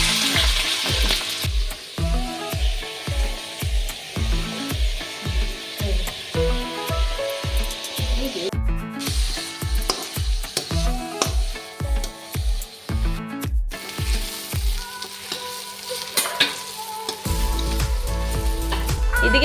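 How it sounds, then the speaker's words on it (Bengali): Sliced onions fry in hot oil for chicken biryani beresta, a loud close steady sizzle with rhythmic stirring or scraping strokes that thin out toward the end. "এখন বেরেস্তা লাগি পেঁয়াজগুলো তেলের মধ্যে দিলাই"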